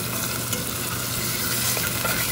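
Chicken breast and garlic sear in a pot with a steady, moderate sizzle and occasional stirring scrapes, no voices.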